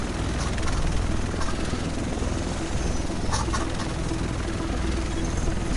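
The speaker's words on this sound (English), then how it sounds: "The rest of us should be in this chopper." Helicopter in The Division video game, a steady broadband rotor and engine roar holding loud and close for the whole stretch, with faint voices in the background.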